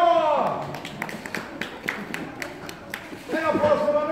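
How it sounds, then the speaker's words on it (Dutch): Audience applause for a rider at a pony riding show: scattered claps and taps from a small crowd, fairly faint, between a man's loud announcements at the start and end. "En applaus voor Catharina!"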